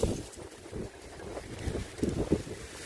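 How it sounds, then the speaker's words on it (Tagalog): Strong wind gusting across an outdoor garden of Zinnia flowers, a steady rushing roar with louder buffeting bursts toward the end, no talking. "Super hangin kaayo na."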